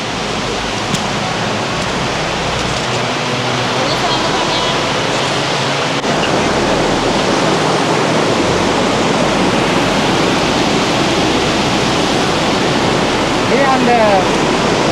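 Rushing river water at a crossing beside a rope bridge, a loud, steady broadband roar of flowing current that fills the scene without letup for the whole stretch.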